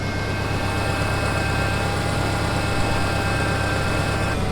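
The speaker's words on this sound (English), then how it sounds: "The idle's starting to lean out a little bit." A warmed-up truck engine idles steadily, leaning out slightly, with a constant low rumble and a faint whine on top, close and unchanging throughout.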